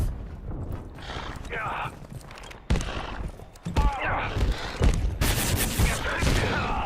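Gunfire in the Abiotic Factor video game, a rapid series of loud cracking shots in bursts over a busy game mix, with people talking throughout.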